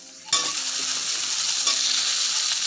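Chopped tomato drops onto onions already fried reddish in a pan, setting off a sudden loud, steady sizzle that holds throughout, with light stirring scrapes and no talking.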